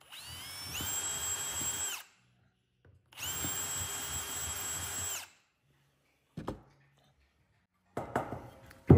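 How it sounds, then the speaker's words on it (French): A power drill pre-drills holes in a Sprinter van's body for a window frame, with two loud whining bursts of about two seconds each, then a few brief knocks and clatter. "Donc Greg, il pré-perce."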